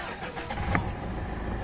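A Mitsubishi Montero engine, just cleared of a check-engine fault, is started up close: a short crank, then a steady running rumble.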